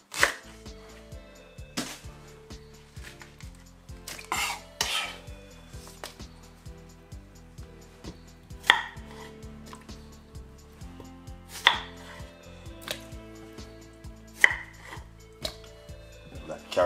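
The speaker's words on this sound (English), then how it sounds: "so you just wanna just cut up everything chunky, not too small" Leek and other vegetables are chopped into chunky pieces for a mixed vegetable soup, with sharp knife strikes on a board spaced irregularly over a quiet music bed.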